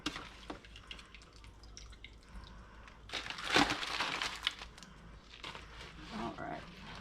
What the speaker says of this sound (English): we're going to go ahead and drain it. Just in a nice big bucket like this